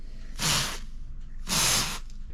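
Two short, sharp blasts of a compressed air can sprayed while held upside down, each a hissing burst of about half a second, close and fairly loud, separated by a brief pause, with no talking.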